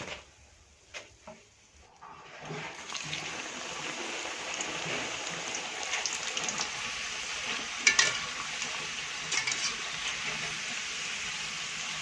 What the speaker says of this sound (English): Nini tena mafuta ikuwe kali ndio ni deep fry vizuri